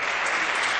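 Applause fills a legislative chamber, a dense, steady wash of many hands clapping together at close range, with no voices over it.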